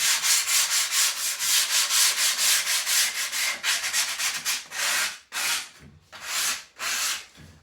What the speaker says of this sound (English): Just a light rub down.